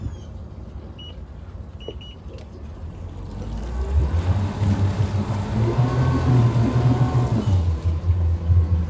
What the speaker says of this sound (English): I will shift it in and out of gear for you. Forward, reverse.